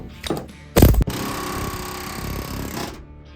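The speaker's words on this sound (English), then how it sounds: "That retainer is stuck just like the last ones, but I'm gonna try to air hammer it out." Pneumatic air hammer on a Ford E-350/E-250 Econoline van rattles in one loud, fast burst against a stuck body mount retainer, then the tool's hiss and whir continue briefly before stopping.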